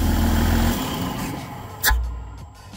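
A petrol car engine revved to show a throttle flap at work: a loud rev that drops back, then a short sharp surge near the end, heard close up with no talk.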